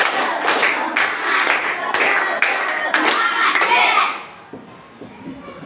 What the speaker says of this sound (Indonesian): Kita tepuk semangat lagi dulu, tepuk semangat.